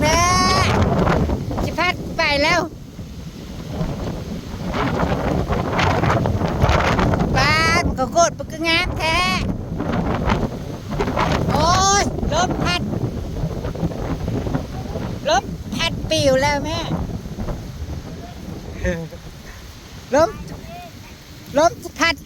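Strong wind buffets the microphone outdoors with a loud, continuous roar, while people talk and call out over it throughout.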